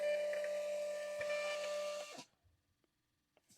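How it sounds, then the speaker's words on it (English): A printer running an eBay shipping label, a steady close mechanical whir with a faint tonal hum for about two seconds, then stopping abruptly, followed by a few soft clicks in near silence. "So many more clicks to print a shipping label on eBay."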